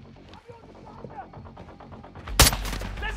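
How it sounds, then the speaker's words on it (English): Gunfire in the Call of Duty video game, a sharp loud shot burst near the end over background game noise and voices. "Taking effective fire."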